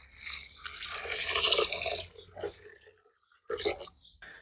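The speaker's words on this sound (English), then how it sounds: "Now give this a good wash until the water runs clear." Pea dal and pink masoor lentils being rinsed under running tap water in a sink: a steady, close splashing stream for about two seconds, then a few short swishing splashes after a pause. No one speaks.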